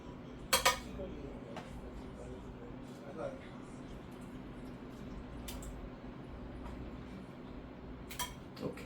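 A spoon scooping ground meat into a lasagna mixture in a bowl, soft wet squishes and a few sharp metallic clinks against the dish, faint and close, with low background hum and no clear talk.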